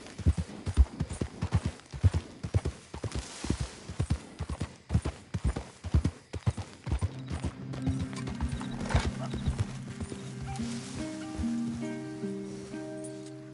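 Hooves of a horse in Red Dead Redemption 2 beat in a quick, steady clip-clop rhythm up close, easing off partway through as a soft whinny and a sustained musical tone come in.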